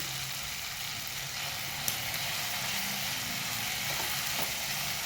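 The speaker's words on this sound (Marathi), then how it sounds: "आणि ह्याला परतून घेऊया हळद टाकून" Peas and cauliflower sautéing with turmeric in a pan give a continuous close, hissing sizzle, steady throughout with a faint tap or two of a spoon.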